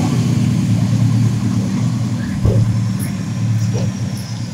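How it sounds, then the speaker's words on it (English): A Kijang Super car engine runs smoothly, a steady close low rumble holding at an even level with a slight bump partway through, and a voice talking over it. "suaranya halus ya, Kijang Super"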